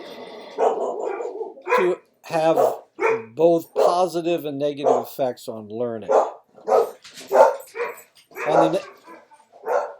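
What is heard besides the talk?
dogs barking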